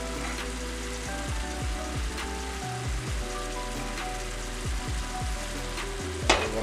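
New Orleans pasta seasoned with Creole seasoning sizzles steadily in a pan while being stirred, a dense close frying hiss with soft shuffling stir sounds and one sharper clink near the end.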